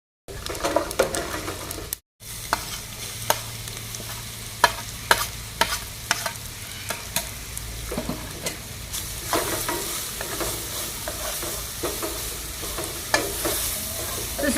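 Green chillies, mustard seeds, cumin, curry leaves and peanuts fry in hot oil for mango pulihora, with a steady close sizzle and frequent scraping and stirring clatter from a utensil in the pan.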